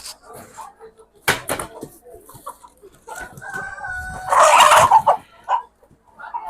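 Chickens cluck, and a rooster crows loudly at an Ethiopian holiday market ahead of Easter, with short bursts of fowl calls and a long crow near the end. People talk in between.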